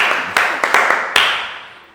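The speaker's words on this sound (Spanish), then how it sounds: "regálame un aplauso a Dayita" Clapping for a presenter at a network marketing training: a few sharp, separate claps that ring out and decay into a reverberant room, sounding like a small group or a single person clapping.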